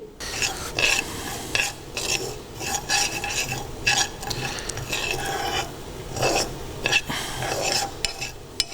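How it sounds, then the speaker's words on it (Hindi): Poppy seeds are dry-roasted in a pan while being stirred, giving a continuous close scraping and rasping with occasional light clinks of the utensil against the metal. "जब तक हमारी ईस्ट उठती है तब तक हम पॉपी सीड को थोड़ा सा भूनेंगे।"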